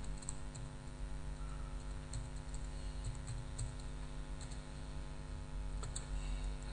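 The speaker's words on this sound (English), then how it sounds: "we press tab from the keyboard once we have the cursor here" Someone types steadily on a computer keyboard, a run of light quick key clicks with occasional sharper taps over a low steady hum, no speech.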